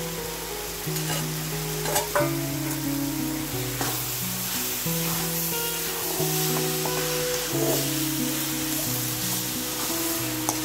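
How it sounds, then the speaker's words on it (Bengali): Bottle gourd being stirred in a pan with fried onion, garlic and egg, a steady sizzle with repeated scraping and clinking of the spoon against the pan, close and continuous without any voices. "এখন ভালো করে নাড়াচাড়া করে নিচ্ছি"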